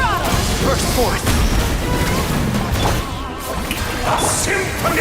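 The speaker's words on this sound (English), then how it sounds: "A symphony of cannon fire!" Cannon fire in Genshin Impact, a dense barrage of crashing booms and blasts that keeps going for five seconds, loud and layered with battle effects and voiced lines.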